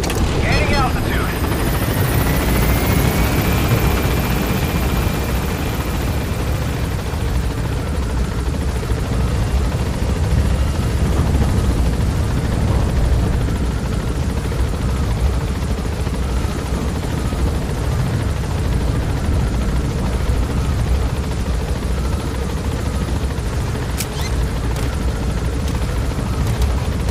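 Helicopter gaining altitude in the video game Metal Gear Solid V: The Phantom Pain, a loud continuous rotor roar and turbine whine that fills the whole stretch, with a brief rising tone early on.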